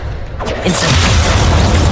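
Incendio fire spell cast in the video game Hogwarts Legacy on PS4 Pro, a loud booming burst that swells into a dense, roaring rush of sound filling the short moment.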